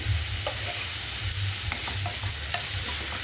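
Onions frying in a pan with salt, a constant dense sizzle under a low hum, with a few light spatula taps and stirs scattered through, no speech.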